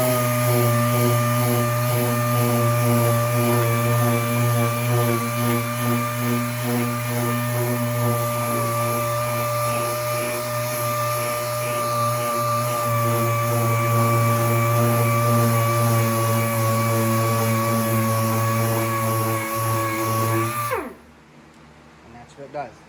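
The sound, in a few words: power sander sanding Camaro body panel with 220 grit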